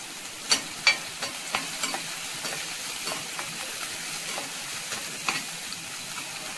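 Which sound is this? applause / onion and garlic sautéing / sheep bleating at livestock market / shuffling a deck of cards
onion and garlic sautéing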